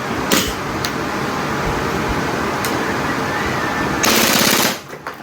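A WE gas airsoft gun made in Taiwan fires on full auto close by, with a quick rattling burst near the start and a longer, loud, rapid burst toward the end over a steady hiss.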